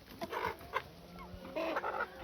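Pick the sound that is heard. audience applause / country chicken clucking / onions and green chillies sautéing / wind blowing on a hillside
country chicken clucking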